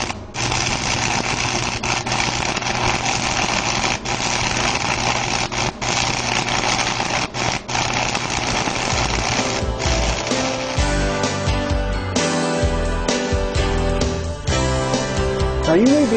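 A 6011 stick electrode welding with a close arc in a back-and-forth weave, giving a steady, loud crackling buzz that runs continuously, with a shift in texture and some tonal hum toward the end.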